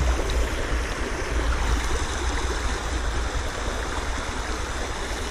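A river flows over rocks in a steady, close rushing wash of water, unbroken and fairly loud for the whole stretch with no voices.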